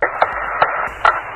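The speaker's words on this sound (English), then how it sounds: "That is Alan Bean hammering a core tube during Apollo 12" Apollo 12 astronaut Alan Bean hammers a core tube into the lunar surface: three sharp taps, evenly spaced, ring out over steady radio hiss.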